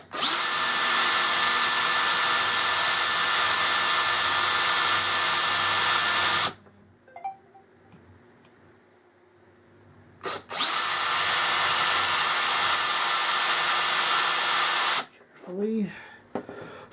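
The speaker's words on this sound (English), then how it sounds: "I wonder if I could use that drill bit for a reamer on where the hole came out" A power drill whines loudly in two long steady bursts, a bit reaming a hole in a Crosman 760 airgun, separated by a quiet pause, followed by a brief voice at the end.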